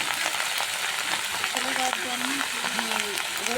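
Onion sizzling with cumin in a hot pan of oil, a steady close frying hiss with faint crackles, while a voice talks softly over it.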